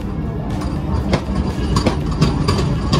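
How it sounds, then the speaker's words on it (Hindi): An express train moves through a crowded platform at Varanasi railway station, with a low rumble and rolling clatter, sharp metallic clanks and squeals breaking through, and faint voices in the background. "और यहाँ पर आ चुकी श्रमजीवी एक्सप्रेस।"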